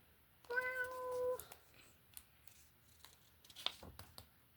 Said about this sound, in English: Kittens were meowing